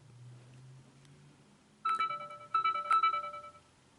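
Several short electronic notification chimes ring out from a Chuwi Hi8 Android tablet, a brief tone followed by a quick rippling run of bright bell-like notes, fairly quiet in an otherwise still room.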